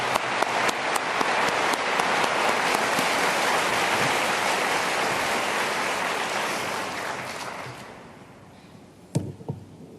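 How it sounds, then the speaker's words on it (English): Dense, sustained applause from a large conference audience at a cystic fibrosis plenary session, loud and steady for most of the stretch before thinning out, with a few scattered final claps trailing at the end. "please join me in giving them a round of applause."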